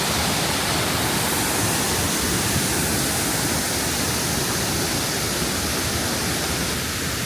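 Rushing water at Mae Sa Waterfall in Chiang Mai, a loud, steady broadband roar of falling and flowing water that continues without a break throughout.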